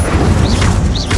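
A fire spell cast in the Hogwarts Legacy video game, heard as a loud, dense burst of whooshing fire and booming impact that runs for about a second, with swirling magical sweeps over low rumbling.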